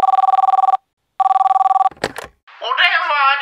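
A telephone at a cake shop rings loud and close in two long bursts of rapid electronic trills, followed by a short clatter as the receiver is picked up, then a woman answering.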